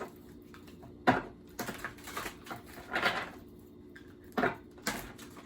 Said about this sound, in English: Okay, we're going to do 5 shuffles.